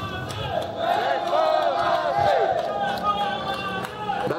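A crowd at a Malaysian political rally roars and cheers for an opposition leader, a loud mass of shouting and whooping voices with sustained, wavering cries and some clapping mixed in, filling the whole stretch.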